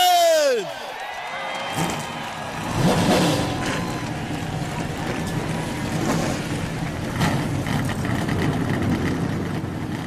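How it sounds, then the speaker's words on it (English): NASCAR Camping World Truck Series race trucks fire their engines together for the 2009 O'Reilly 200, a loud sustained roar of revving motors with a crowd and announcer mixed in under the din. "gentlemen, start your engine!"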